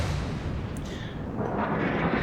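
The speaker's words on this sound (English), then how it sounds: "my secondary batteries are just going to sit there and start wailing on him" Warship secondary batteries firing in a naval combat game, a dense rumbling barrage of booming gun reports and explosions, loud and continuous with no clear gaps.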